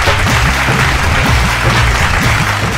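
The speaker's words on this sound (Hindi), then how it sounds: "जोरदार ताली सबके लिए" Loud, dense applause from an audience at a Bhojpuri singing competition show, filling the stage space continuously, with music or low tones running underneath throughout.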